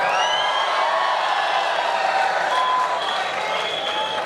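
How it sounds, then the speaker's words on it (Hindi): College cultural festival audience applauding and cheering loudly, dense continuous clapping with a few whoops, close and full throughout. "अच्छी लगने के बाद इतने जोर से ताली बजा देना कि पाकिस्तान तक आपकी तालियों की आवाज पहुंच सके"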